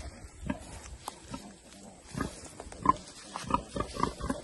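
Pigs on a farm, one building a nest from uprooted plants, give short low grunts and snuffles scattered across the clip, close by and moderately loud, with no talking.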